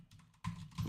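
Brief bursts of computer keyboard typing, soft clicks and a louder run of keystrokes, faint and close-miked during a fighting-game podcast setting.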